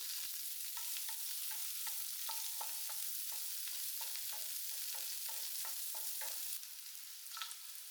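Chopped shallots fry in a pan for a Kerala vazhakoombu cherupayar thoran, a soft continuous sizzle punctuated by a regular series of light spoon taps and stirs, fairly faint and without talk.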